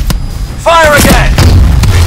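A Warbird aircraft explodes as it is shot down in Call of Duty: Advanced Warfare, a loud, sudden boom that bursts in partway through and rumbles on, with shouting voices over the blast.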